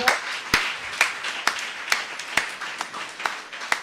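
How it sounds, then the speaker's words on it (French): A small audience at a panel discussion on industrialisation claps for an arriving panelist, sparse slow hand claps at a regular pace, about eight in four seconds, fairly close, with no talk over them. "je vous demande d'applaudir bien fort"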